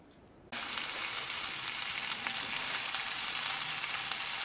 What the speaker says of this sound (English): All right, here we got it frying.